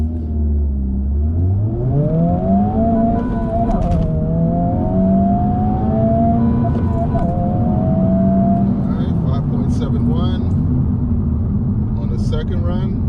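A 2023 Honda Civic Type R accelerates hard from a standstill to 60 mph in R mode with traction control on, its engine note climbing steadily and loudly through the run, heard from inside the car.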